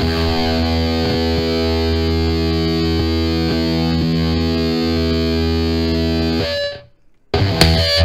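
A heavily distorted electric guitar through a Two Notes Wall of Sound amp simulator on destroy mode holds a thick, sustained chord, buzzing and saturated, then cuts out briefly before a short burst returns.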